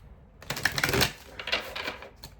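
A deck of oracle cards is shuffled in quick, soft papery riffles close by, a short flurry of crisp flicks that peaks and then tapers off, with no talking.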